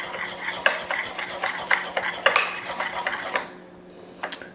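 A spoon scrapes and stirs a basic white sauce in a pot, with steady rhythmic clinks and scraping strokes close by, and a brief pause before a final couple of sharp clinks.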